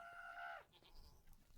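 Goat in the Minecraft video game: a short, faint, wavering bleat that cuts off, followed by quiet scuffing game sounds.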